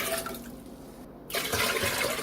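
Water pours into a container for pink lemonade made with sweetened cranberry juice and sugar, a steady splashing stream that grows louder and fuller after a brief pause, close and alone.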